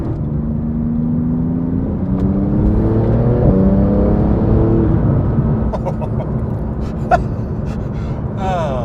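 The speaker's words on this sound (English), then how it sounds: "foot to the floor and the turbos come on full bore" A turbocharged Porsche sports car is accelerating at full throttle. The engine note climbs loudly and steadily over several seconds, then eases off into quieter road noise with a few sharp clicks.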